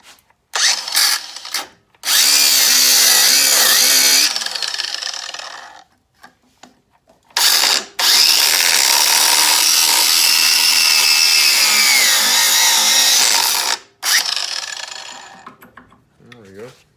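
A power cutter slices into a Norton Commando motorcycle frame in loud, sustained screeching bursts separated by short pauses, with a brief voice between cuts.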